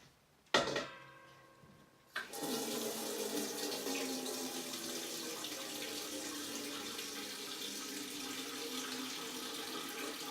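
A faucet clicks on and water pours steadily into black pots for an off-grid shower, a constant rushing stream that continues to the end.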